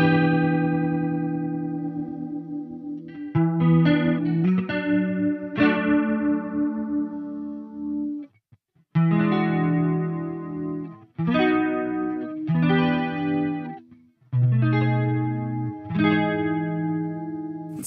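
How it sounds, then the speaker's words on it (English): Electric guitar through a chorus pedal into a Soldano SLO-100X amp, played as ringing strummed chords and arpeggios with a shimmering, wavering chorus texture, each phrase decaying before the next, loud and alone. "Let's get back to that chorus"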